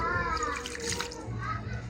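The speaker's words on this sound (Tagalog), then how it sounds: "Lagyan natin ng konting tubig." Water added to a pot of chicken feet with bay leaves, pepper and garlic, a short close splashing pour with a faint voice in the background.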